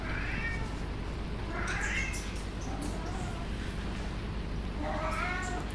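A cat meows repeatedly, three drawn-out, fairly close calls spaced a couple of seconds apart over a constant background hum.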